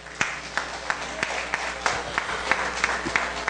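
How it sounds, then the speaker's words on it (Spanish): An audience at a Peruvian harp concert applauds in a moderate, even patter of clapping with a few sharper claps, heard from within the hall. "así que fuertes palmas para todos ellos."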